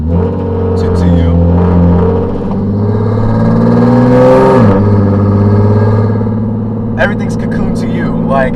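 A 2009 Nissan 370Z engine hums and rises to a rev in the middle of the drive, then settles back, with someone speaking over it at the start and the end.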